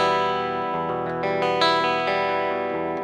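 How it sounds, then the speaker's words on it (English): Direct-input electric guitar played through a Nobels SST-19 pedal, a thin, plasticky processed tone with chorus-like shimmer; several picked chords and single notes ring out close and steady, alone without talk. "this is like the most plastic DI guitar sound you're gonna hear today"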